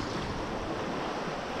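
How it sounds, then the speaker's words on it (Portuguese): Wind blowing steadily at the seashore while fishing, a continuous broad rushing roar mixed with surf, loud and close with buffeting on the microphone and no talk. "O vento tá meio ruim, o vento ainda."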